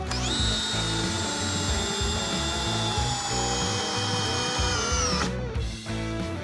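Cordless drill in first gear drives a lag screw through a 10 mm socket from a budget accessory set, a loud continuous motor whine with a rapid rattling ratchet underneath for about five seconds, then a brief clunk as it stops.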